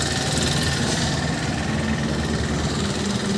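A 2006 Mahindra 275 tractor with a high tank, in new-tyre condition at a tractor market, idles with a loud, steady, close diesel rumble and vibration throughout, with no talk.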